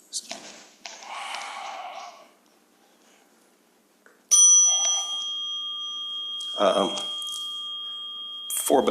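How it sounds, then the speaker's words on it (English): A bell rings with a bright, sustained metallic tone that lingers and decays, struck again near the end, after a stretch of quiet and some speech at the start. "Four bells."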